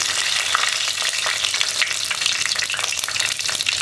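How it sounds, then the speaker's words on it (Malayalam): Dried red chillies sizzle in hot oil with mustard seeds and fenugreek for a traditional rasam, a close, continuous crackling fry with faint stirring and no voices. "ഇനി നമുക്കിതിലേക്ക് വറ്റൽമുളക് ചേർക്കാം"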